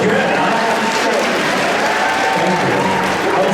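An audience at a fan convention panel claps in a dense, sustained burst of applause throughout, loud and even, with some speech mixed in.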